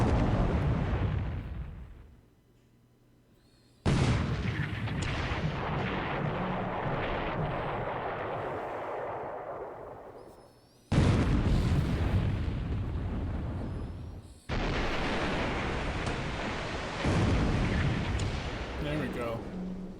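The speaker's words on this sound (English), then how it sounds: "Some 6-inch shells landing on that destroyer." Six-inch naval shells burst on a destroyer in a World War II strategy game, a run of heavy, booming explosions in several separate loud bursts with short gaps between them. Speech can be heard underneath.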